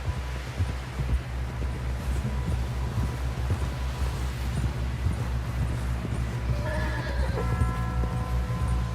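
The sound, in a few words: video game horse galloping and neighing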